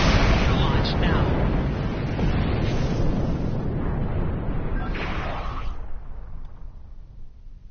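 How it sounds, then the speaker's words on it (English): Torpedoes launch and explode in a Star Trek space battle, heard as a loud, continuous, roaring barrage of rumbling blasts and whooshes that slowly fades toward the end. "Target shield has failed. Torpedo launch now."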